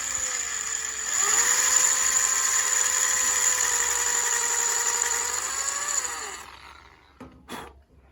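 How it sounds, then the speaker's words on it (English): A power drill bores out a part with a steady high whine that runs continuously for about five seconds, then winds down and stops, followed by a couple of brief clicks. "you're going to drill this, drill it out."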